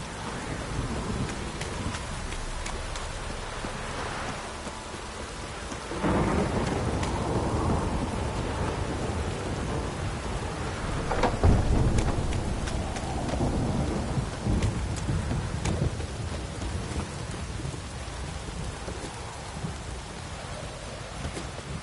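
Steady heavy rain pours throughout in The Witcher 3: Wild Hunt while thunder rolls in, with a louder crack and rumble around the middle before easing back to the downpour.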